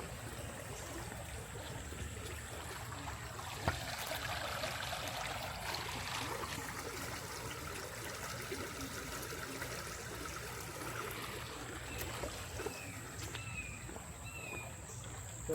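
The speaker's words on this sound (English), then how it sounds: "So this is the same creek." A woodland creek trickles steadily at low volume, a constant gentle babble with faint bird chirps now and then.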